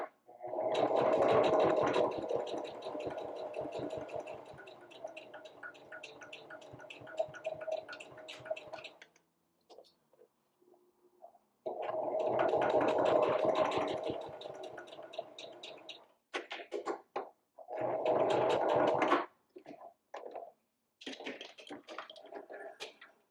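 A sewing machine back stitches a fabric wallet in long bursts of fast, even mechanical chatter separated by short pauses, close and clear, with no talking.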